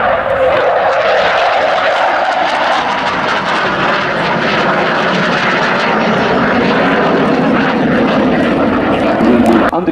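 A Cold War-era display aircraft roars continuously overhead while flying a barrel roll at an RAF Waddington air show. The engine is loud and sustained, and its pitch shifts slowly as it passes.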